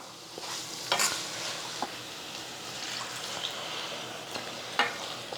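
A spoon scrapes and stirs through a thick simmering potato gravy in a pan, with soft bubbling and a few sharper clinks against the metal.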